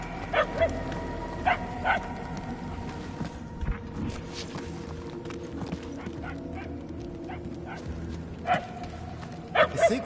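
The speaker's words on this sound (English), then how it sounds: "The barks are getting louder, at least." Distant dog barks in a Guardians of the Galaxy game level, a few short bursts near the start and a louder cluster at the end, set against a steady low hum of in-game ambience.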